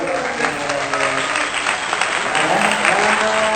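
A group claps together in a steady rhythm, fairly loud and near, with some voices mixed in.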